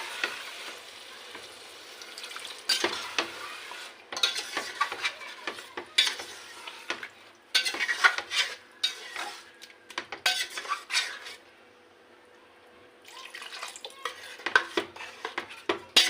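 Spice paste loosened with a little water is stirred and fried in a pan for a Bangladeshi chotpoti dish, with repeated scraping stirs, utensil clinks against the pot and a soft sizzle, alone and close, pausing briefly midway.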